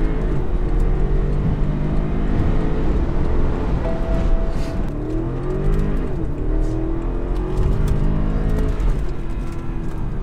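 A 2013 BMW 650i accelerates and corners, its engine note rising and falling in a steady drone heard from inside the car, with little talk.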